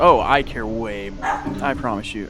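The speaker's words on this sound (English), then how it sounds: "if you hear my dogs in the background, that's them having a blast" Dogs bark and yip playfully in the background, their sharp calls mixed over a person speaking close by.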